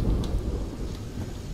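Thunder from a lightning storm in S.T.A.L.K.E.R. Lost Alpha, a loud low rumble with rain noise over a short stretch, no talking.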